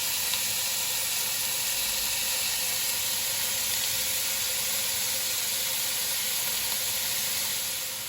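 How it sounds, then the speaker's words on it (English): Ground beef sizzles in a pan over medium heat for a tomato Bolognese meat sauce, a steady, even frying hiss holding at a constant level throughout with no talking. "now we're adding some ground beef"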